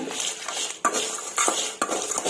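Whole spices frying in a pan for stuffed brinjal curry, stirred steadily with a metal spoon that scrapes and clinks against the pan in repeated sharp knocks, close and clear.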